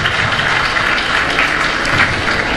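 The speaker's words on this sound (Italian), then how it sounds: "vi invito anche a salutare il presidente Luciano D'Alfonso con un applauso" Dense, steady applause from a large audience, including school groups, welcoming the regional president at an event in the Aurum hall. The clapping is continuous and fairly loud for the whole stretch.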